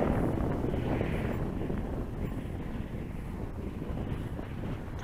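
Strong wind buffeting a microphone at a model airplane flying field, a steady, loud low rumble that fills the whole stretch with no pause and no talk over it.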